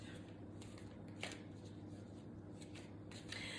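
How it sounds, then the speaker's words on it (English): A pile of tarot cards shuffled by hand, soft quiet riffles and flicks of card stock with a few brief brushing bursts, close and faint, no talking. "Let me grab this pile for you guys and see what's in the tarot card."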